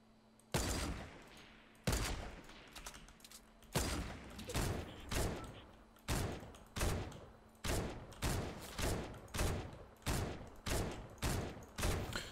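Gunfire from a weapon in Fortnite, a rapid series of loud, sharp shots in uneven bursts, roughly a dozen cracks spread across the span, with no talking over them.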